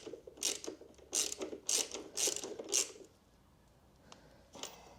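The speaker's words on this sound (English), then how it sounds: "just use the 12 and 14 to tighten it up" A ratchet wrench clicks in quick repeated strokes, about five rhythmic bursts, while tightening the rear shock bolt on a Suzuki DRZ400E motorcycle, then a couple of softer clicks follow after a pause; close and fairly quiet, with no voices.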